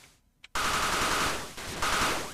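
Automatic rifle fire with recoil in the Mini Sudden Attack video game: after a brief quiet pause, a dense, continuous stream of rapid shots starts abruptly and carries on loud and close with only a tiny break, no speech over it.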